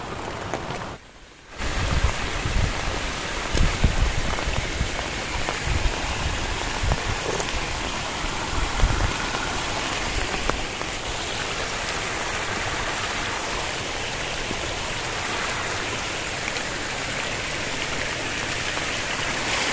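Light rain patters steadily in dense forest beside a waterfall at a campsite, a soft continuous hiss of drops with a brief dip near the start and no talking.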